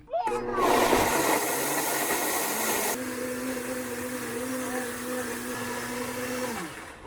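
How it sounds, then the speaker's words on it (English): Kitchen blender running loud and whirring, then its tone drops and shifts abruptly partway through as the power surges, settling into a steadier lower drone before winding down at the end. "while the blender was going, it surged up"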